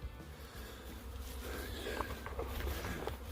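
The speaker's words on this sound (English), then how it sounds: "I could hear the telltale sign of a heck of a lot of bees" A steady, dense buzzing of a swarm of bees in a pine tree fills the air, continuous and fairly close, with a few faint rustles or steps underneath.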